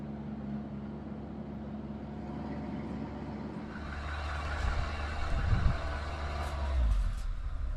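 A Sherp amphibious vehicle driving over ice, its engine a steady low rumble that swells louder and rougher toward the end, with a few irregular thumps, heard from close by with no talk.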